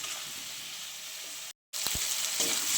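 Masala of turmeric, cumin, salt and green chilli paste fries in a pan for a prawn and cabbage dish, a steady close hiss that cuts out briefly, then returns with a couple of light clinks.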